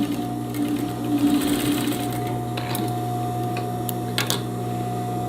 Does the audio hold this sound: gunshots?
no